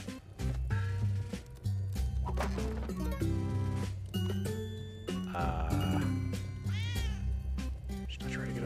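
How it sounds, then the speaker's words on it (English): Cat meows from the Spelunky video game over busy game music and sound effects, several short pitched cries rising and falling amid the clutter, with someone talking. "Oh, don't hit the cat, don't hit the cat."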